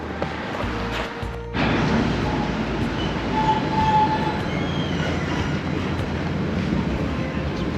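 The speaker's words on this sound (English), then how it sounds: "So we just wait for this tram now" A tram in Krakow rolls in along the city street, a steady rumble of wheels on rails building after a brief clunk and continuing at moderate volume with a faint squeal.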